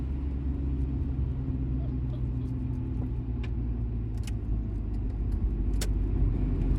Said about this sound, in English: The chaos of Tangier traffic